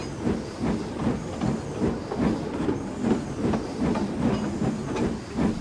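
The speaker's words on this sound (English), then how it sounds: "And as he puffed away with Agnes, he told her the whole story." A steam locomotive puffs steadily along while pulling a coach, with rhythmic chuffing beats roughly twice a second over a continuous rumble and hiss, heard close and fairly loud.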